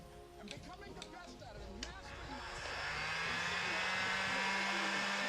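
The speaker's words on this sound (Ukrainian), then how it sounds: "Ось так я зафіксував цього фена і бака. І тепер ми його включаємо." A hair dryer, clamped in place, switches on partway through and blows hot air into a Dnepr-12 K-750 motorcycle fuel tank idle for 37 years. A steady loud whooshing roar with a low hum follows brief talk at the start.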